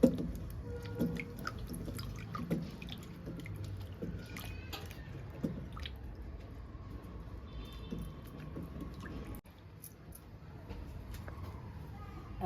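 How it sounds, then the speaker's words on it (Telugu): Two onions rinsed under a running kitchen tap while preparing crab curry: quiet trickling water and scattered drips and light clinks at a sink, steady over about twelve seconds. "అవి శుభ్రంగా కడిగి క్లీన్ చేసుకోవాలండి"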